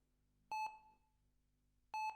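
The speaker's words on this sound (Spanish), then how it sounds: "Un pitido agudo me perforó los oídos" Two loud, pure high-pitched electronic beeps, each a short double pulse, separated by over a second of near silence.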